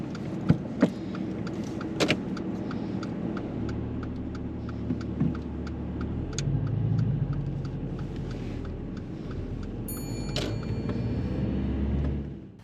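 A car pulls away from stationary during a driving lesson, a low engine rumble building and swelling gently, with a few faint clicks and knocks from inside the cabin early on.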